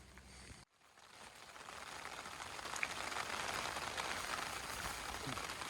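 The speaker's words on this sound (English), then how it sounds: "Feel the rain. The water is coming inside" Rain patters steadily on a nearby surface, building after a brief cut and settling into a dense, even hiss of drops.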